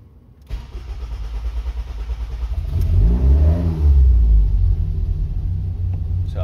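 A Ford Duratec engine fitted with an ME221 ECU loom cranks and catches, then rises into a loud, steady rumbling idle with a brief rev, close and continuous with no talk over it.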